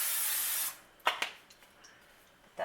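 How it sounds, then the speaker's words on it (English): Cooking spray hisses from a can onto a baking pan in one short burst of under a second, close and bright, followed by a few faint clicks and handling taps in a quiet kitchen. "we're going to spray the pan just a little bit"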